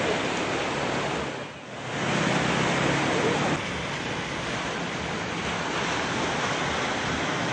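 Surf at Pasar Bawah beach on the coast of Kota Manna: a constant loud wash of breaking waves mixed with wind buffeting the microphone, dipping briefly before swelling back.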